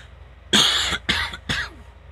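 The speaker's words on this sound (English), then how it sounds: "Trying to cough up what I have in my lungs out" Three harsh, wet coughs from a sick person in quick succession, close and loud, with short pauses between them and no talking.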